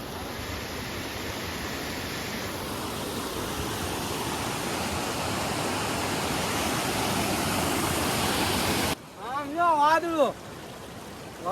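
Steady rushing of falling water fills most of the clip, then gives way near the end to a brief stretch of other sound.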